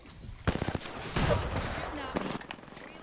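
Gunfire rattles in an Apex Legends firefight, with rapid bursts of shots and sharp cracks from across the map, partly under a player speaking.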